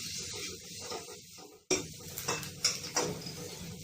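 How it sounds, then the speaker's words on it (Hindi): Chopped onion being stirred over a high flame in a pan for veg Manchurian, with metal utensil scrapes and clinks against the pan and a faint sizzle, close and irregular, no talking. "प्याज को भी मैं 1 मिनट तक हाई फ्लेम पे फ्राई कर ले रही हूँ।"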